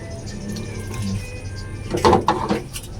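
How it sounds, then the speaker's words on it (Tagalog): Water is poured into a cooking pot holding fish paksiw with garlic, onion, salt and vinegar, a short splashing gush arriving near the end after a stretch of low kitchen noise, fairly close. "Dagdagan natin ng tubig."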